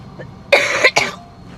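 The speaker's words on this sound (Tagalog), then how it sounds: "Kaya ko ubo eh." A person coughs twice in quick succession, close and loud, a harsh burst followed by a shorter second one, over a quiet background.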